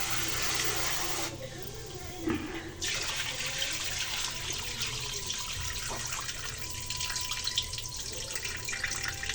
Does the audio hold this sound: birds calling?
no